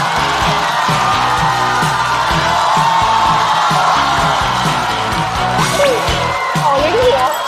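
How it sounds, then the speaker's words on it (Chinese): A studio audience at a Chinese stand-up comedy show cheers, whoops and claps loudly to welcome comedian Maodou onstage, a dense, sustained crowd roar with shrill shouts rising near the end. "能吃能喝能开玩笑，有他就有重量级欢乐，掌声欢迎毛豆"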